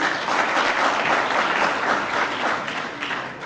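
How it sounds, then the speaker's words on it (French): Sustained applause from an audience at an awards ceremony, a dense steady clatter of many hands clapping, full and close, tapering slightly toward the end. "On applaudit."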